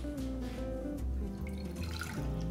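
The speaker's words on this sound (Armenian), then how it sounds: "Լցնում ենք ջուրը" Water poured into a small pot on a kitchen stove makes a short, moderately faint trickling splash over a low steady background hum.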